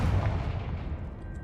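A Confringo spell explosion in the Hogwarts Legacy video game: one loud, deep boom at the start that fades into a rumbling decay over about a second, with no speech.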